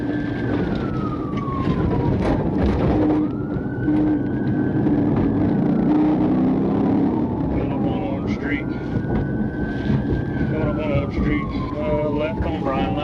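A police car siren wails during a pursuit in slow rising and falling sweeps, repeated several times under steady talk and engine or road noise.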